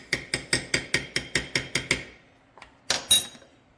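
A spoon clinks rhythmically against a glass jar while stirring homemade yogurt, about ten even taps in quick succession, followed after a short pause by a couple of louder knocks and scrapes near the jar.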